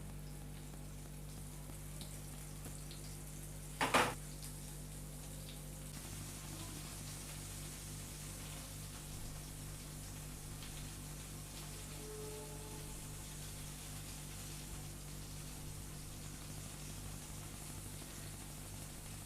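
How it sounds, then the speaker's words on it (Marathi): Rava-coated bombil fish frying in hot oil in a pan over medium heat, giving a steady soft sizzle throughout with one brief louder crackle near the start. "तेल चांगलं गरम होऊ द्यायचं आणि असे एक एक पॅनमध्ये सोडायचे आणि अगदी मीडियम गॅसवरती याला फ्राय करून घ्यायचं।"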